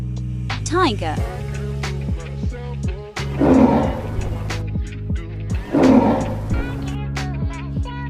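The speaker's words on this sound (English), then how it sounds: "tiger," A tiger gives two deep, rough roars a couple of seconds apart, loud and close, over a steady rhythmic music backing.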